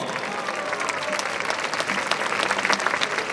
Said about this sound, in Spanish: Miguel Brás, fuerte el aplauso para este genio.